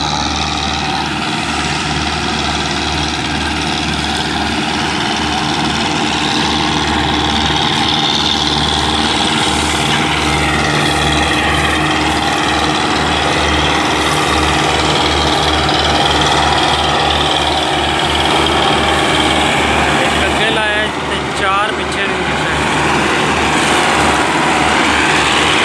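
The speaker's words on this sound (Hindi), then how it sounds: "लग गए ने जी ट्रैक्टर ते जोर लान लगे ने।" A Belarus tractor engine labours steadily under heavy load, pulling a loaded sugarcane trolley, a loud continuous diesel drone with rhythmic knocking and a brief rattling surge near the end, no talking.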